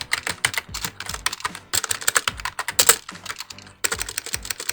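Rapid keystrokes on a computer keyboard while C# code is entered, close and crisp, in irregular bursts of clicks with one brief pause near the end before typing resumes, no voices.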